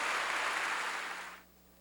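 A church congregation applauds as an offering of glory to God: a soft, steady wash of clapping that fades out after about a second and a half.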